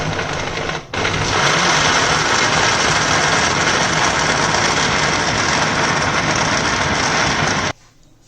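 A loud, steady motorized grinding from an electric blender jug with about a glass of water runs continuously for several seconds, starting abruptly after a brief pause and cutting off near the end.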